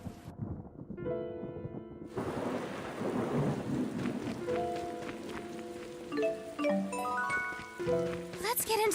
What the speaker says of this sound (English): I hope there won't be any more thunder.